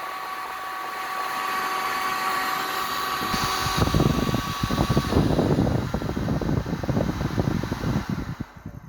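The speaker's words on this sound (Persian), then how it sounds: "سشوار" A hair dryer runs alone with a loud, steady whir. Partway through, a rougher, rattling motor roar builds and then fades out at the end.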